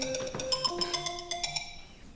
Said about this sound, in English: Turn your phone off, Andre.